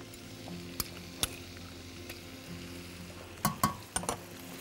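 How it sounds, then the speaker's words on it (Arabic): Garlic goes into a pan of melted butter with a little oil and sizzles faintly, with a few sharp clinks and stirring knocks of a utensil against the pan. "هنزل بالتومة بتاعتي"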